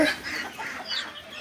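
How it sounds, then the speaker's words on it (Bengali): Native desi hens clucking inside a chicken shed where they lay eggs, a steady low chatter of several birds close by, with no voices. "এগুলো হচ্ছে আমার দেশি মুরগি"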